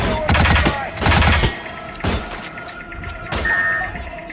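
Gunfire in the Hitman video game: loud bursts of automatic fire in two dense volleys, followed by scattered single shots and a final sustained burst, with faint game sounds beneath.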